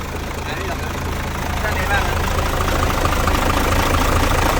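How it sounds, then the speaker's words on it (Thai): A trailer truck's freshly rebuilt 195 hp diesel engine with a ten-speed gearbox idles in a steady, loud, close rumble. People talk over the engine throughout. "ไม่มีไอเนาะ เครื่องไม่ไอ เครื่องฟิตใหม่"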